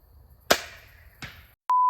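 A TenPoint VenomX crossbow fires at a 70-yard target: one sharp, loud snap with a fading ring, a softer second crack moments later, then a steady electronic beep tone. No voices.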